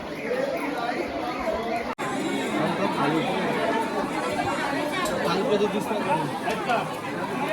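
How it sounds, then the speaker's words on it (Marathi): Dense babble of many voices from a crowded pilgrim queue at Bhimashankar temple on a Shravan Monday, steady and close all through, with a brief dropout near the start. "गर्दी आहे ना आज भरपूर गर्दी झाली"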